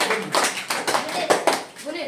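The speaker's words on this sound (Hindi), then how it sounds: "जोरदार ताली" Children in a classroom clapping loudly together, a run of about seven sharp, fairly regular claps close by, with some voices mixed in underneath.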